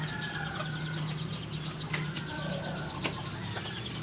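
Chickens cluck softly close by, with bursts of wing flapping and scattered light taps as they move about.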